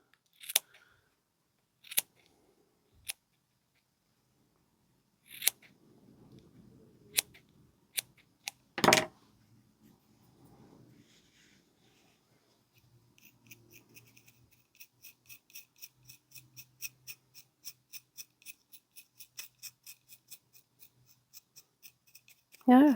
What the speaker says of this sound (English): this one I'm sort of trimming outwards